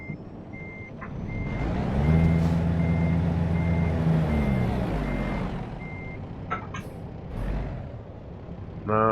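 A truck in American Truck Simulator backs up with steady, evenly spaced reversing beeps over a loud engine drone that swells and then eases, followed by a couple of short air-brake hisses near the end.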